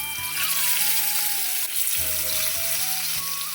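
Fish frying in a pan while other curry ingredients wait nearby: a steady, close, broadband sizzle that runs throughout, with faint tonal sounds in the background.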